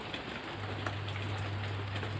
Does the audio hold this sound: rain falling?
yes